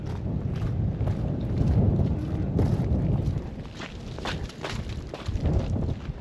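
Wind gusting during an ice storm at an open-sided barn, buffeting the microphone in low rumbling surges that rise and fall, with some footstep-like shuffles mixed in.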